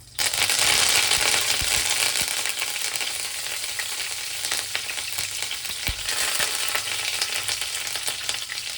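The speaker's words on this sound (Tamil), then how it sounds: "கடுகு நல்லா பொரிஞ்சதும் அப்புறம் நம்ம வந்து கரு கொஞ்சம் கருவேப்பிலை சேர்த்துக்க போகிறோம்" Curry leaves hit hot oil with popping mustard seeds, giving a loud, dense, continuous frying crackle close up, with a few sharp pops and clinks scattered through.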